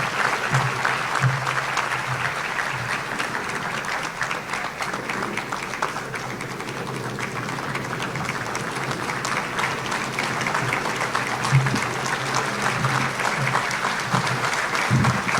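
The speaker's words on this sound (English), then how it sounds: "A round of applause for our Attorney General" A Chamber of Commerce luncheon crowd applauds the state Attorney General, Russell Coleman, with sustained, even clapping from a large room lasting the full stretch, never letting up.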